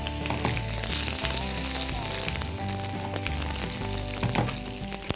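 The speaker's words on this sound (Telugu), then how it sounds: "కొంచెం నూనె వేడైన తర్వాత ఫస్ట్ ఇందులో పచ్చిమిర్చి." Green chillies crackle and sizzle in hot oil in a pan, a steady dense frying hiss with occasional stirring clinks, loud and close, no talking.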